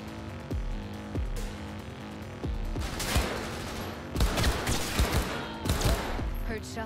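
Rapid bursts of gunfire in Cyberpunk 2077 crack out in clustered volleys, loud and close, with sharp repeated impacts growing denser toward the end.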